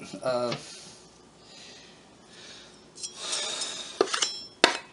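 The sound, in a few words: knife cutting vegetables for bean soup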